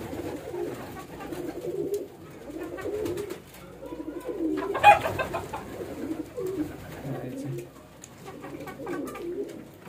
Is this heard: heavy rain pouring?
no